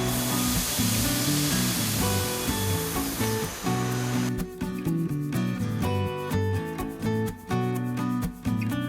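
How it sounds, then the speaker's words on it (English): A bean sprout heat sterilization machine spraying green beans makes a continuous loud hissing spray over a steady mechanical hum, with a rhythmic pulsing texture setting in partway through. "Green beans are put into the machine to start the heat sterilization process."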